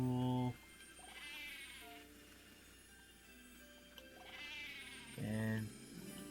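Sheep in a farming video game let out two loud bleats, one at the very start and another near the end, with a quieter bleat between them and a soft ticking sound underneath.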